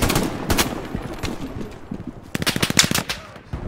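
Machine gun fire in the World War II shooter Hell Let Loose, with scattered shots followed by a loud, rapid sustained burst of rattling automatic fire close by.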